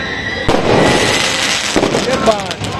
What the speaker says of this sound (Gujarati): ફરી પાછા ફટાકડા ફૂટવાનું ચાલુ થઈ ગયું હોય આકાશમાં